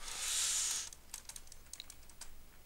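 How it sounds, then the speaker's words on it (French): Quiet keystrokes tap on a computer keyboard, close and soft, in an irregular run of clicks after a short hissing burst at the start. "Vous m'entendez peut-être taper sur mon clavier."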